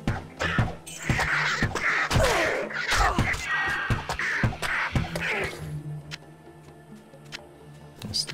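Birds caw repeatedly in the rocky wastes of the video game Diablo 2, harsh calls over sharp game clicks and thuds, with the cawing dying away into quieter ticks near the end.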